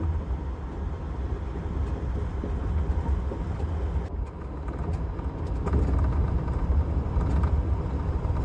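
Amtrak sister train rushing past on a neighboring track, heard from aboard the Cardinal sleeper on an autumn ride from New York to Chicago: a steady, loud broadband rumble that swells toward the end.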